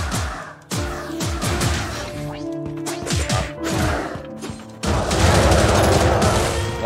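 Fire magic spells cast in the video game Wizard of Legend, a run of sharp bursting impacts and crackling blasts layered over game music, building into a dense, loud flurry of hits near the end.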